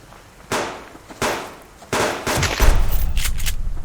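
Rifle and pistol gunfire in the survival game Subsistence: a few sharp, loud single shots spaced apart, then a rapid rattling burst of close shots.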